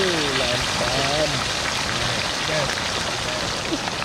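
Steady rain pours down on an outdoor riverside camp at Sungai Lembing during a kayak fishing and camping trip, a dense continuous hiss while someone talks over it in Malay as he cooks.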